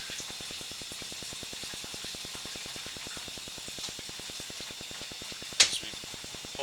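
Water from a laundry tub sink flows through an underground sewer pipe beneath a building, a steady hollow rushing with a fast regular pulsing and a brief sharp knock near the end.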